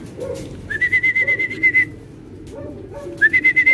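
A racing pigeon at the loft gives short bursts of rapid, pulsing calls mixed with higher whistle-like tones, loud and close, two separate phrases with a brief pause between them.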